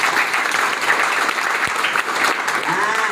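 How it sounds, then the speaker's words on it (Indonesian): Loud, dense applause from an audience at a Sundanese cultural talk show, sustained clapping throughout with crowd noise. "tepuk tangan buat kulit."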